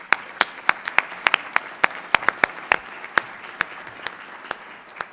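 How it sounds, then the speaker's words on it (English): An audience at a Denver leadership program event claps in a sparse, uneven round, individual sharp claps standing out close by and thinning toward the end, with no talking. "Let's give a big round of applause."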